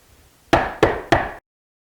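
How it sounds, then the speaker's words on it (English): Three hard, evenly spaced knocks bang on a little green door, loud and close, each thud ringing briefly before the next, then sudden silence. "he banged hard on the little green door."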